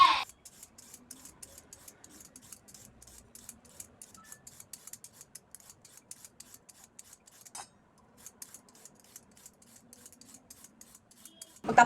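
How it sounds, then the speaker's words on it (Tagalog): Two washed carrots are peeled with a rapid run of scraping strokes, close and steady, then cut with a few sharp blade sounds, broken by a short pause midway. "hinugasan na natin yung ating 2 pirasong carrots, hiwaan natin sa tig-2 at babalatan natin."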